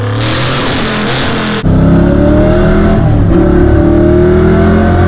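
A 1971 Ford F100 truck engine revs hard and very loud, first a rough idle-like roar, then a sharp jump into a sustained, deafening high-rev blast held close to the mic until it cuts off.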